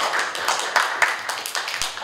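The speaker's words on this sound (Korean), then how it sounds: "아니, 박수 치셔도 됩니다." Audience clapping at a film and copyright forum, a short burst of irregular hand claps, moderately close, with a voice speaking over it.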